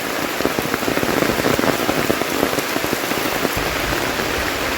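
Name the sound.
heavy rain in forest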